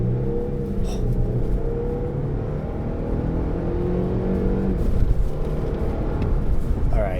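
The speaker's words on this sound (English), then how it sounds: "Quick little 0 to 60 here. We'll do a little brake torque." A Lexus GX550 Overtrail SUV accelerates hard from a brake-torque launch toward 60, a steady loud engine drone heard from inside the cabin, rising gradually with road rumble and no talking.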